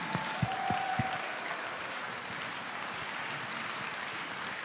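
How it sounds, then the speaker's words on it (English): An audience at a music awards ceremony, the Original Music Awards 2024, applauds: a dense, steady wash of clapping holds evenly for several seconds, with a few sharper claps standing out at the start. "Give yourselves a round of applause"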